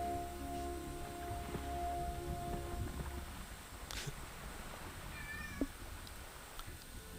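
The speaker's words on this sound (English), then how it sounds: "My cat is trolling me right now." A pet cat meows a few times indoors against a steady low background hum, the calls short and fairly close, with no one talking over them.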